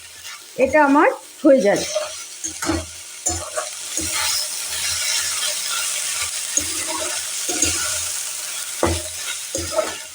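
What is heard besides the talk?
stirring plantain stem mixture in a pan with a spatula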